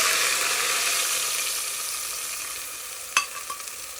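Masala powder is stirred into a ginger potato curry in a pan, giving a continuous sizzling hiss that slowly fades, then a few sharp scrapes and clinks of the spoon near the end.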